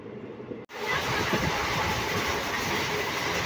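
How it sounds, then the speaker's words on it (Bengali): The Black Diamond Express rolls toward Bardhaman. After a brief gap, a loud, steady rumble of wheels and carriage noise is heard close up and without pause. "তো ট্রেন এখন বর্ধমানের উদ্দেশ্যে রওনা দিয়েছে"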